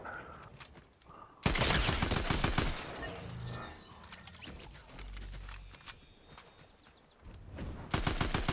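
Fortnite gunfire crackles in rapid bursts of sharp shots, loud and close in places, with quieter single shots and game effects in between.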